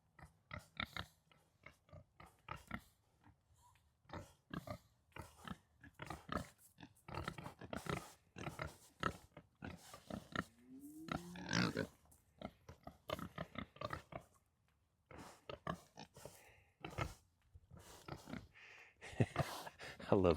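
Fat pigs on a ranch grunt and snort in short, repeated bursts at close range. Someone talks to them between the grunts.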